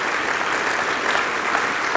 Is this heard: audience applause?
yes